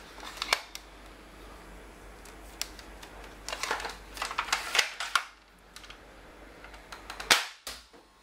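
Koosh Vortex Tornado toy blaster firing rings, a series of sharp snapping shots in irregular bursts, close and fairly loud with quiet handling noise between them.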